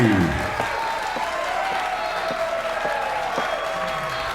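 An audience in Gary gives sustained applause welcoming a singer home, a steady, dense wash of clapping that holds an even level throughout.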